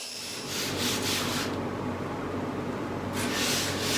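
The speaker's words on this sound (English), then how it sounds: "So I'm going to continue with the belt sander." A belt sander grinds across a wooden console top in steady close passes, its rough abrasive rasp swelling and easing with each stroke and no voices.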